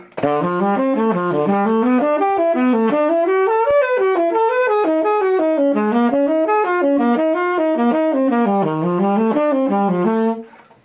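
Single melodic line played on a pitched instrument, climbing and falling through a whole tone scale in even major-second steps, loud and steady with no talking.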